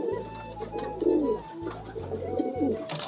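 Several high-flying pigeons at a breeders' sale coo in low, repeated rolling phrases, close and fairly loud, with faint bird chirps and background noise above.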